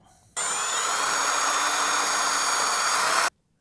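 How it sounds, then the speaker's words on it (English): A power drill whirs steadily at high speed for about three seconds, drilling into a vehicle bumper, loud and close, starting and stopping abruptly. "We'll see if I can drill from the back here"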